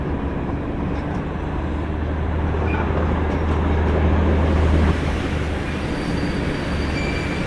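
The Darjeeling toy train rolls along at low speed, a steady close rumble of wheels and carriages with faint rail squeal, swelling slightly midway, and no voices.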